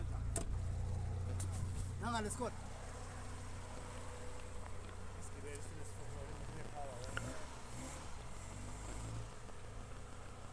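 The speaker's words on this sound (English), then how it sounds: "See, the car is moving." An old car's engine runs at a mechanic's shop after being repaired, with a low, steady drone under sporadic nearby sounds and brief faint voices.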